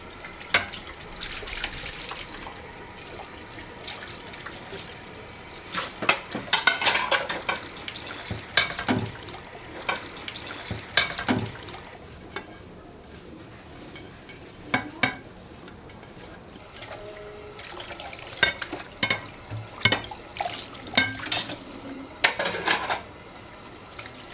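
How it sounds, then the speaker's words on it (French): Dishes are washed under a running tap with plenty of washing-up liquid, the water flowing steadily while plates and pots clatter and knock close by in irregular bursts. "va faire la vaisselle"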